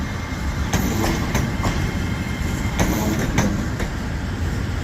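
A class 807 train at Birmingham New Street station, heard close and loud as a steady rumble with repeated clickety-clack wheel beats over rail joints, no talk.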